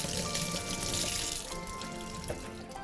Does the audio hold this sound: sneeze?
no